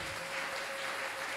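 Church congregation applauding the Lord Jesus, a dense, steady wash of clapping that holds at an even level from start to finish.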